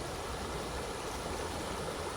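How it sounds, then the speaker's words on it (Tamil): Water from a lake dam pours and gushes forcefully in a steady, dense roar that holds at an even level throughout, with no voices over it. "செம்மையாக தண்ணி கொட்டிகிட்டே இருக்குது. எவ்வளோ ஃபோர்ஸாக இருக்குது பாருங்கள் ஃப்ரெண்ட்ஸ்."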